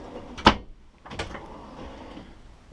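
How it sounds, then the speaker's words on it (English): A silverware drawer in the kitchen of a 2015 Airstream Interstate Grand Tour Class B motorhome slides and shuts with a sharp close-up clack, followed by a softer second rattle and thump. "Another drawer, a silverware type drawer."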